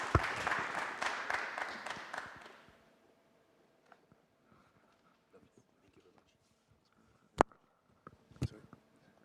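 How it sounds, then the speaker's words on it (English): Audience applause at the close of a talk on surveillance capitalism and privacy: about two and a half seconds of clapping that fades out, leaving a quiet room with a few scattered knocks and thumps. "Let's give a big round of applause."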